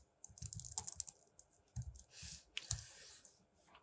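Someone types a command line on a computer keyboard, producing a quick irregular run of close, crisp key clicks and taps with short pauses between bursts and no talking.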